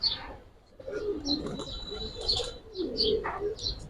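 A male pigeon, a Giribaz-type domestic bird, coos in a few repeated throaty phrases at close range, with faint chirps from other birds around it.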